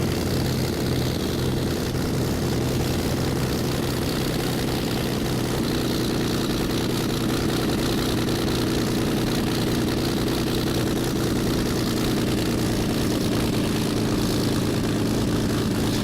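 A Spitfire's propeller engine taxis in Microsoft Flight Simulator X, a steady, droning low throb with a constant buzzy rumble that holds evenly throughout, no talking.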